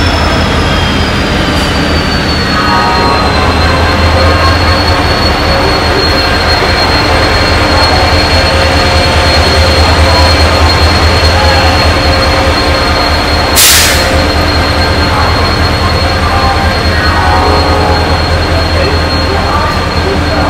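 A train at Howrah railway station, loud and close, with a steady rumbling drone, rattling wheels, a long high whine and a brief hissing burst midway, continuous throughout.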